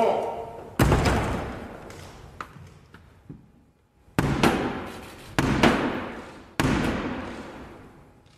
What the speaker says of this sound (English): we'll have to knock on the door of the House of Commons.